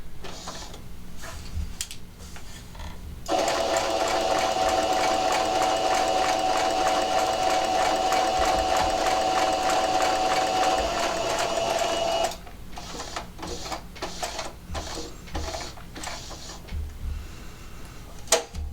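Domestic sewing machine stitching a fabric Christmas tree, a steady close mechanical whirr with a bright tone running for about nine seconds, framed by quieter handling clicks and fabric rustles before and after.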